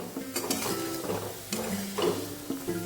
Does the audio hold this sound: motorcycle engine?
no